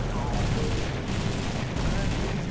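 Breda Ba 65 aircraft guns firing in War Thunder, a dense continuous burst of rapid gunfire filling the whole stretch, loud and close with no pauses.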